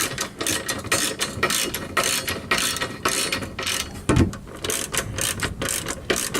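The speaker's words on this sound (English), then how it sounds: "Gonna get my socket, and we're just gonna tighten down a little bit." A socket ratchet tightening the bolts on a Valkyrie driveshaft bearing skidplate, giving rapid, continuous clicking up close and fairly loud.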